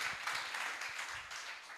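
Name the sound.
audience applause at summit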